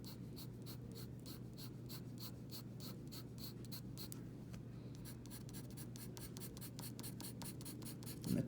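A pencil or drawing tool laying rapid, regular hatching strokes on paper for a value drawing, a close, quiet rhythmic scratching that continues steadily with only a brief pause, no talking.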